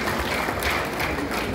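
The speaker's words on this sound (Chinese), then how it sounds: "是不是我们自己给自己的热烈掌声" An audience at an inauguration ceremony in an arena gives sustained, dense applause, many hands clapping evenly and loudly throughout.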